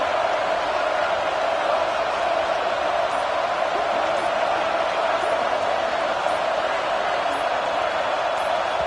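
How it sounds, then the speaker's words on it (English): A loud American football stadium crowd roars continuously, a dense, steady wall of noise from many voices with no break, forcing a false start. "with this place rocking, the crowd forces a false start"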